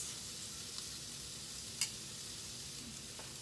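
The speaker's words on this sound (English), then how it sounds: "So I'm gonna put the shrimp in the pan. You can hear it sizzling." Shrimp sizzle in a hot frying pan, a steady soft hiss of frying with a few faint pops and ticks, heard alone at low volume.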